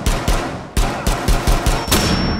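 Rapid gunfire from Rainbow Six Siege, about eight sharp close shots in quick irregular succession over a couple of seconds, loud and alone.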